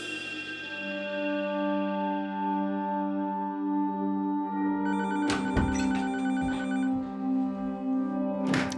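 A telephone rings with a steady electronic tone, then a few sharp clicks and knocks interrupt it near the end, close and clear.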